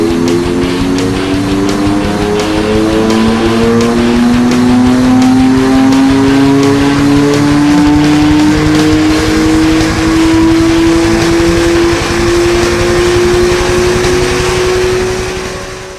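BMW M4 with the S55 turbocharged engine on a dynamometer, revving loudly in one long sustained pull, the engine note rising steadily in pitch for about fifteen seconds with no talking.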